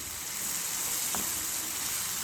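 Ginger-garlic masala roasting in a pan gives a soft, steady sizzle, faint and continuous with a brief clink partway through.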